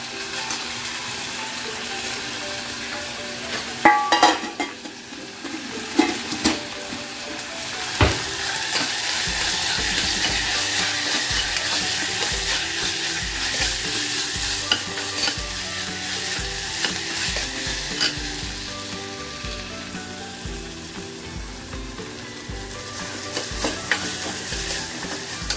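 Spices such as asafoetida and turmeric sizzling as they drop into hot oil in a home kitchen, a steady frying hiss with stirring scrapes and a few sharp clinks, fairly close and loud throughout.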